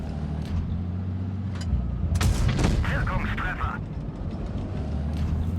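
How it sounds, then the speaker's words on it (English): A Leopard 1 tank cannon fires in the World of Tanks Blitz video game: one loud, sharp blast rings out mid-clip over a steady engine rumble and battle noise. "I'm going to go ahead and get a shot into him."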